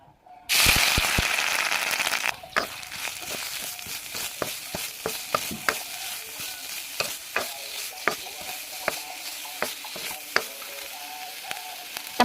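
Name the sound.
frying spices in oil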